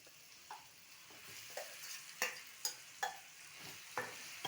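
Mango chutney tempering frying in a pan with turmeric, a faint steady sizzle broken by about eight sharp spoon scrapes and clinks against the pan at irregular intervals, no voices.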